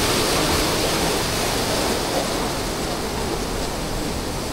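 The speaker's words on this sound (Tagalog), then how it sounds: "lumalakas na yung tubig, yung ragasa" Rushing water of Tatlong Falls in Bulusan, Sorsogon, swollen after rain upstream on the mountain. It is a steady, dense roar that stays constant throughout, with no voices.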